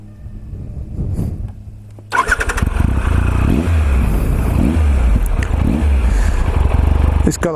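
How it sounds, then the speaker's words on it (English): A Triumph Tiger Explorer motorcycle with a triple-cylinder engine cranks briefly and fires into a loud, close, throbbing idle that settles into a steady rhythmic rumble with light blips. "It's got that delicious triple engine sound"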